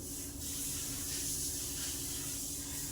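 Chopped capsicum frying in hot oil in a pan gives a steady, soft hiss with a faint continuous crackle, fairly quiet and unbroken.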